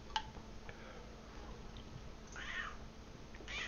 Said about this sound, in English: Oh, my kitty approves as well.